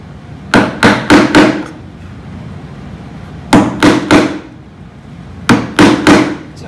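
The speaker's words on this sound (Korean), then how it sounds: "끌질 같은 경우는 저도 여기서 지금 보여드리고자 작업을 하고 있는 거긴 하지만 지금 얘를 때리면 밑에가 여기가 많이 울려요" Mallet blows on a chisel while chopping out a dovetail socket joint in wood: three close groups of three or four sharp knocks, loud and near, with quiet gaps between the groups.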